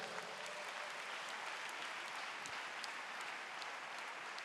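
A church congregation applauds steadily and evenly throughout, a dense, continuous clapping heard from within the crowd with no speech over it.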